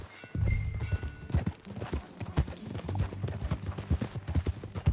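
Horse hooves clip-clop in a steady walking rhythm while riding in Red Dead Redemption 2, close and moderately loud with faint ambient background.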